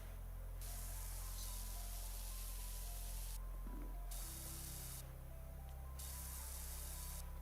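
Pressure washer spraying in the video game PowerWash Simulator, a steady loud hiss that cuts in and out in long bursts, with a low hum running underneath.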